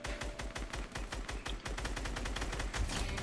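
Rapid automatic gunfire from a video game, loud and continuous with dense bursts of shots and heavy low-end thumps throughout.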